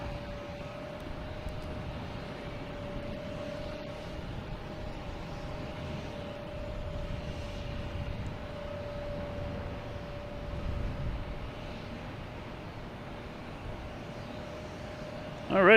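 A JetBlue Airbus A220 airliner approaches to land at Boston Logan, a steady engine drone with a sustained tonal hum, distant and constant, swelling slightly near the end.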